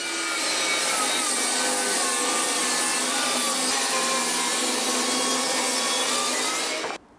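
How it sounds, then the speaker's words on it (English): A table saw ripping strips off an oak board for box sides, one long, steady, loud cut with a high whining blade tone and woody rasp, cutting off sharply at the end. "I can get it on the table saw and rip a couple of strips off to make the sides of the box"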